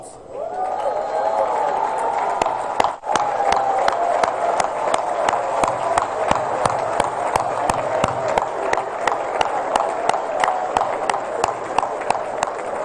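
Audience on its feet applauding at an official ceremony for the inauguration of the FECAFOOT headquarters, dense sustained clapping and cheering filling the hall at steady loudness, with one brief dip partway through.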